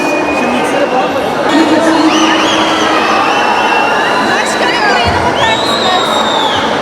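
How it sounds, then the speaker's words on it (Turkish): An audience applauds and cheers at a metropolitan municipality event supporting amateur sports clubs: a dense, steady wash of clapping and crowd noise that runs the whole time, with voices mixed in. "alkışlarınıza çok teşekkür ediyorum"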